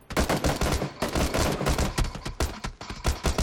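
Rapid bursts of automatic gunfire from PlayerUnknown's Battlegrounds, dense, loud and nearly continuous volleys of close shots filling the whole stretch, with no talk over them.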